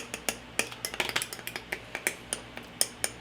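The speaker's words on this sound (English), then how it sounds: "Just give it a little stir here to cool it down." A hot homemade fishing bait mixture being stirred in a pot, giving a steady run of sharp metallic clinks and taps from the spoon against the pot's sides, close and clear with no talking.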